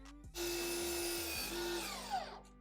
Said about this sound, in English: The front legs are cut square at 90 degrees on the miter saw.